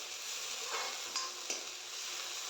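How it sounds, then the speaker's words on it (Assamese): Onions fry in hot oil with whole spices, giving a steady, close sizzle with a few sharp scrapes and clinks as they are stirred in the pan. "পিঁয়াজখিনি কালাৰ চেঞ্জ হোৱালৈকে ভাজি ল'ম।"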